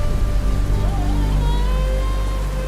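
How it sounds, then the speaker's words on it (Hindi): Heavy rain pours steadily in a mythological Ramayana drama scene, a dense continuous wash of falling water with a faint tonal hum beneath it and no pauses. "वर्षा तो थमने दीजिए।"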